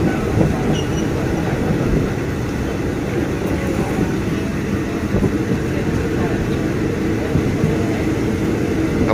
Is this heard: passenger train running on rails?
yes